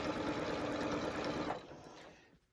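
A Singer 8500Q sewing machine stitches a quilt in a steady, fast mechanical whir that runs loud and close, then slows and stops toward the end, leaving near silence.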